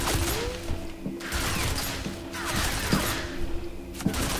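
Dense, continuous gunfire from the video game F.E.A.R., a steady clattering barrage with sharp cracks and thuds layered over game ambience, no voices.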